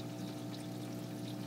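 Water flows through vinyl tubing and an elbow into a DIY coil denitrator, making a steady, quiet, continuous pouring trickle that stays even from start to finish.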